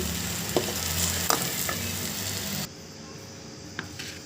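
Egg seasoning fries in a pan with a steady sizzle and a few light clinks of a spatula; the sizzle drops to a quieter hiss partway through.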